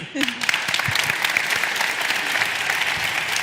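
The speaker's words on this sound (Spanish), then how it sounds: "Un aplauso para ella." An audience at a televised Spanish science show claps for a contestant who answered a chemistry question correctly, with steady applause throughout and a brief voice at the start.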